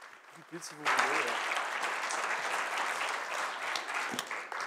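Warm applause from an audience for the metropolitan mayor at a Re Cycle 2022 gathering, rising after a brief voice and continuing as a steady crowd clapping at moderate level.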